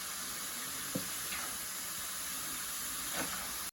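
Carrot halva cooking in a pan on high heat, a steady soft sizzle and hiss with a few faint scrapes of stirring, alone and fairly quiet.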